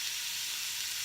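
Onions frying in a pot as the base for gluten-free chicken stock, giving a steady, bright sizzle that stays even and close for a brief moment, with no voices.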